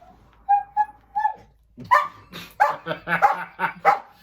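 Several dogs bark in a quick run of sharp, close barks after a few thin whimpers at the start, loud and alone with no talk.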